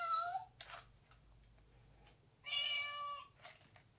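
A toy cat paw squeezed by its trigger gives two electronic meows, one at the start and a louder, longer one midway, separated by quiet, with a faint low hum beneath.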